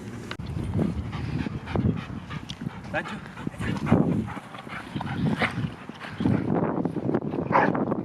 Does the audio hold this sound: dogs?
yes